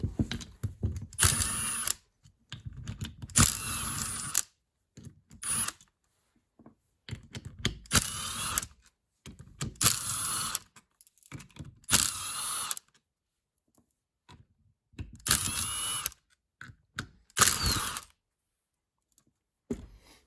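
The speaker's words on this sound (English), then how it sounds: "So next what you want to do is to take these bolts out of this cap." A ratchet clicks in repeated bursts while bolts come out of an LS engine's oil pump cap. Each short burst of rapid clicking is separated by pauses, and the sound is close and fairly quiet.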